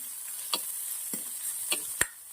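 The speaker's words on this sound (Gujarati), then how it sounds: "લસણના ચાર પાંચ કળી હતી હવે આપણે એને શેકી લેવાનું છે" Four or five garlic cloves and a piece of ginger roast in a handi, a soft steady hiss broken by a few sharp ticks and crackles spaced about half a second apart.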